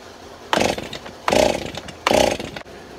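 A Stihl 038 chainsaw fitted with a new Archer chain revs hard in three loud, evenly spaced bursts, each a throttled-up roar of about half a second before dropping back to idle, close and alone.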